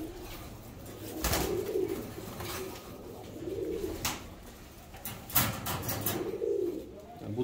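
Budapest Deres Goylak type pigeons in a loft, giving low rolling coos in three separate bursts with brief wing or perch noises between them, moderately close with no talking.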